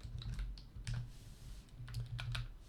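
Quiet, close keystrokes on a computer keyboard as a code comment is typed, irregular short bursts of clicks with brief pauses and a low hum underneath.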